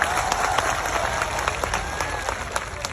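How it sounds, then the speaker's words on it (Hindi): A large crowd at a political rally in India breaks into loud, sustained applause, many hands clapping close together in a steady roar with sharper individual claps standing out. "एक बार जोरदार ताली बतानी तो इनके लिए बताओ।"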